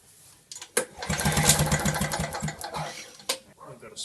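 A Victa two-stroke lawn mower engine is pull-started, giving a sharp yank, a brief rough sputtering burst that dies away, then another short pull, all close and loud.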